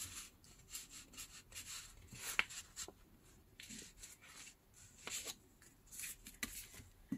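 A pencil draws a pattern on paper for a Halloween folio craft project, giving soft, close scratchy strokes in repeated short bursts with a faint rasping texture and no speech.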